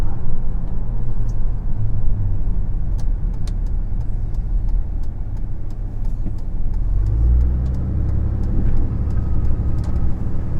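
Supercharged Roush Ford F-150 Platinum 4x4 pickup driving on a forest road, a steady loud engine rumble from inside the cab with a slight swell of acceleration partway through, no talking.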